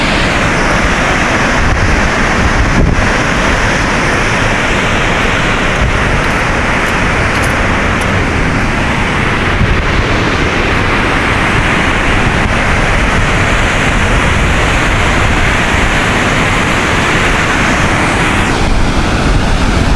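A steady, loud roar of rushing water at a lock and dam fills the whole stretch without letup, no voices, like standing close to a waterfall.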